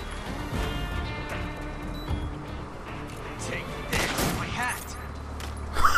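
Gunshots ring out in Metal Gear Solid 3: Snake Eater, several sharp cracks scattered across a busy game soundscape, with a player talking over parts of it.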